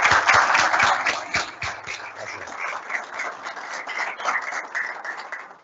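An audience at a talk on weed control strategies applauds, with dense clapping that is strongest at the start and then settles into a steady, moderately loud patter lasting several seconds.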